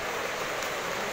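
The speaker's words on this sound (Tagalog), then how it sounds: "Lalong lumalakas pa ngayon yung ulan." Heavy rain pours over flood-hit streets in Las Piñas, a dense, steady hiss of water that stays even and unbroken from start to end, with no voices.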